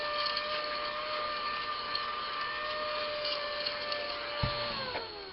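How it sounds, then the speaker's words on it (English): A small vacuum cleaner hoovers up loose bits left from a fabric-covering craft, giving a steady, close, whining motor drone for several seconds that shifts pitch slightly near the end, with no talk. "I'll just hoover these bits off."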